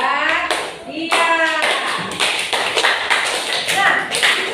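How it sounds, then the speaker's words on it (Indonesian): Classroom applause for a student after a presentation: a scattered group clapping with a few sharp taps, lasting several seconds, while voices speak over and around it. "oke, beri tepuk tangan buat dia."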